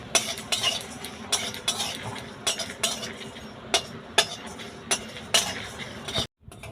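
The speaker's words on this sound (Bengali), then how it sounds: "এবার এইগুলো ভালো করে ভেজে নেব।" Whole spices with fennel seeds and three dried red chillies dry-roasting in a pan, a spoon scraping and clinking against the metal in irregular strokes, close and fairly quiet with a faint sizzle underneath.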